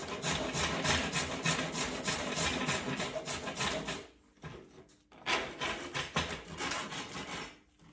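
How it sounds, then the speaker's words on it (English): Wooden stick being rasped into shape for Irish stick making, close rhythmic scraping strokes in a steady run, a brief pause midway, then more rasping. "We'll rasp this into a bit of shape."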